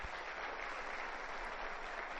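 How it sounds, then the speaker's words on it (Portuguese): An audience at a talk applauds two people being honoured, a continuous, fairly quiet and distant patter of many hands clapping. "Eu peço inclusive um aplauso para eles."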